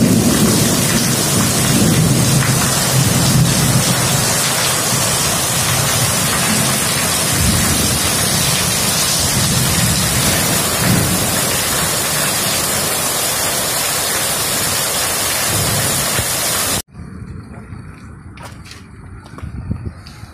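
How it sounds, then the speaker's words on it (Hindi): A loud, unbroken roar of heavy monsoon-style downpour during a thunderstorm dominates for most of the stretch, then drops abruptly to a much quieter background near the end. "यहाँ पे इतने ज़ोर से बारिश हुआ है कि आप बोलो ही मत, आपको दिखाता हूँ कैसे हुआ है।"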